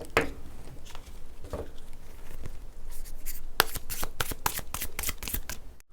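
Tarot cards are shuffled by hand, starting with a few soft riffles and building into a quick run of crisp, closely spaced flutters near the listener.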